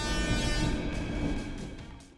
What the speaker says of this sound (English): The train had already departed!